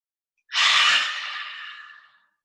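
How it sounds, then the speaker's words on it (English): A single slow breath drawn in and eased out during a seated chair yoga exercise, close and clear with a soft airy rush that fades gradually, alone without talk. "take a breath in"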